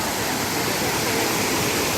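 Rainwater rushes over a check dam, a loud steady roar of falling water that stays constant and fills the whole moment with no voices.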